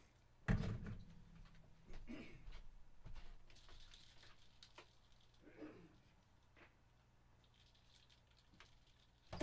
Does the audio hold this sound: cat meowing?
no